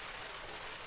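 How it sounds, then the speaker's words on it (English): Heavy rain pours down around a truck camper rig, making a steady, dense hiss that stays even for the whole second, fairly soft and close, with no voices. "it's coming down good today. This first really good rain up here."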